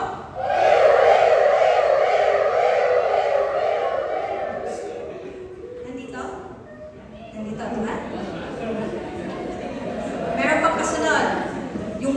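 A group of voices sings a rising and falling wail in imitation of an ambulance siren, held loud for several seconds, then repeated more softly.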